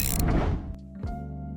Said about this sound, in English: we want to add the gear sound.